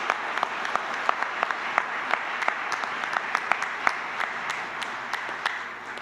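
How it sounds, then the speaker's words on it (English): An awards-ceremony audience applauds young inventors at a state finals event, a full, even wash of many hands clapping with sharp individual claps standing out throughout. "all of you clap for our young inventors"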